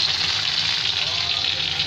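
Tomato and spices hit a hot pan for Bihari-style black chickpea curry, producing a loud, steady close sizzle with a broad hiss and no break.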